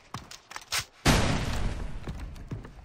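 A grenade explodes with a sudden loud blast and long rumbling tail in a multiplayer shooter video game, preceded by a few scattered gunshots and followed by more faint shots.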